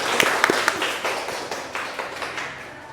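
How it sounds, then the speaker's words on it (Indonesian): Brief scattered clapping from a small group in a university classroom during a Quran recitation teaching session, a few sharp claps at first, then a softer patter that fades out. "Kita beri tepuk tangan untuk Mas Bowo."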